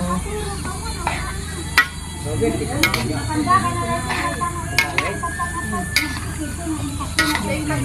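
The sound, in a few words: stirring and sizzling sautéed vegetable mix in a pan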